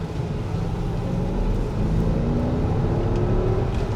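A Porsche Cayenne Turbo 955 on a bumpy road under light throttle, a steady low engine drone and road rumble from inside the cabin, continuous and moderately loud with no talking.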